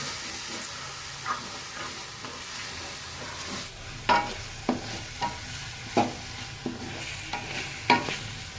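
Tomato paste gravy for palak paneer cooks in a pan with a steady close sizzle and hiss, broken by scattered stirring clacks and scrapes at irregular intervals, no voices.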